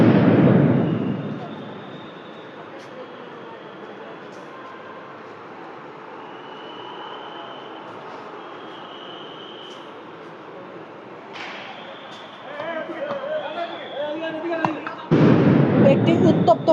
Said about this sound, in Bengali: সাউন্ড গ্রেনেডের শব্দ কিন্তু শোনা যাচ্ছে